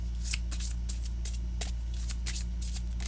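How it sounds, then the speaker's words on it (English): Astrological oracle cards are shuffled by hand in a rapid series of crisp riffling bursts, close and clear, over a steady low hum, with no talking. "I think I'm going to keep shuffling, see if we get the other one popping out."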